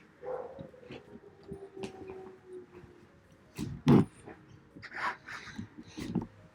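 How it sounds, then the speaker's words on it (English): A dog barks a few times in the distance, with one louder, closer-sounding bark partway through, all over faint background noise and no talking. "Can you guys hear the dog?"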